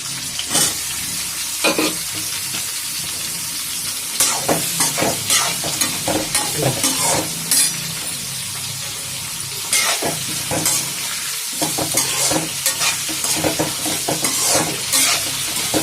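Cucumber pieces frying in ghee for dosakaya pachadi sizzle steadily up close, broken by frequent scraping stirs of a spatula through the pan, with no one speaking.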